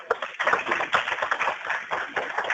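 An audience applauding an announcement of a four-year accreditation for person-centered excellence during a webinar, a short burst of quick, dense claps at steady volume.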